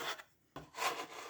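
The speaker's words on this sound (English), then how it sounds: "Scrape again." Soft cavatelli dough scraped across a floured wooden board in a few short rubbing strokes, close and fairly quiet, with a brief pause between scrapes.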